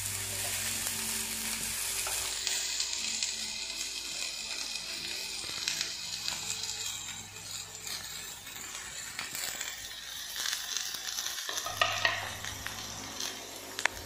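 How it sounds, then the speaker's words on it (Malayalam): Chopped onions sizzle and fry in hot coconut oil while being stirred in a pan, a steady close crackle with scraping stir strokes throughout and no talking. "നമ്മുടെ സവാള നല്ലോണം വാട്ടിയെടുക്കേണ്ടതുണ്ട്. അതിനായിട്ട് ഞാൻ ഇളക്കി കൊടുക്കുകയാണ്."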